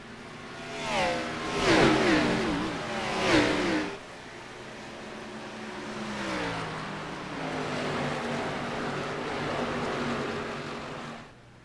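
Race cars at Darlington in an IROC Challenger Series playoff race accelerate hard on the throttle at the green flag: loud, rising engine revs that peak twice, then a steadier, fainter roar of cars pulling away.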